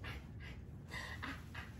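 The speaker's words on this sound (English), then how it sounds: "She's just coughing." A puppy gives a series of short, rough coughs in quick bursts, fairly quiet and close, with no talking.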